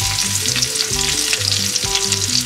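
Lemongrass, chili and shallots frying in a pan, a loud close sizzle with stirring scrapes over a steady crackle, with music playing underneath and no talk.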